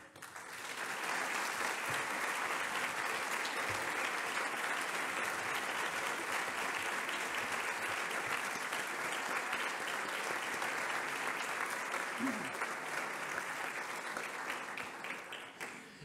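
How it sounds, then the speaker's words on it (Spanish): Audience applause at a band concert for Santa Cecilia, a long, sustained wash of many hands clapping in a hall, steady and even throughout, heard from some distance, with no voices over it. "hoy pido un fuerte aplauso para todas esas personas que habéis contribuido con estos nuevos músicos"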